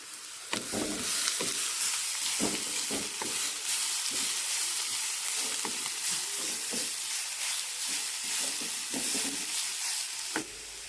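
Chopped beetroot sizzles in a hot pan as a spatula scrapes and stirs it in irregular strokes, close and steady, with no voices.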